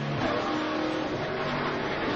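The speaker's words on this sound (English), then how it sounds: "You can see there's a big gap between those two trucks, and Rick's closing on him pretty good." Racing trucks on the Indianapolis ORP oval accelerate in a steady, continuous engine roar, loud and sustained with no talk over it.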